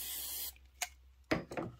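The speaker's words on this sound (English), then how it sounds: "Going to give it a little shot of spray." Spray adhesive hisses from a can onto quilt fabric in a brief close burst, followed by a few shorter spritzes.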